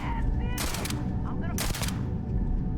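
Gunfire in the video game Starfield, with two loud broadband bursts of shots about a second apart over a dense, noisy game soundscape.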